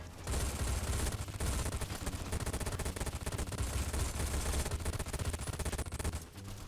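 Continuous rapid gunfire in Fallout: The Frontier, a dense stream of shots fired without pause, loud and close, tapering off at the end.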